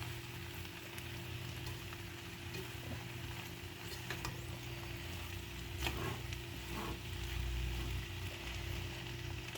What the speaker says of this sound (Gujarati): હવે આ ધાણા સરસ રીતે અંદર મિક્સ કરી દેવાના છે.